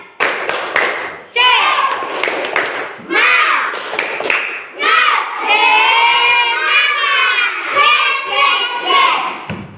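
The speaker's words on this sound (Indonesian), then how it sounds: "kita tepuk semangat terlebih dahulu. Tepuk semangat" Schoolchildren in an Indonesian classroom perform a rhythmic clapping chant, with sharp claps at the start followed by loud, sing-song group voices chanting together in a lively cadence.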